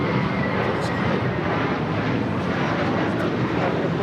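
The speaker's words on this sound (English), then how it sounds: "Steer France, 777 coming in from Paris" An Air France Boeing 777 from Paris arrives at LAX, a dense steady jet roar filling the few seconds, with voices audible beneath it.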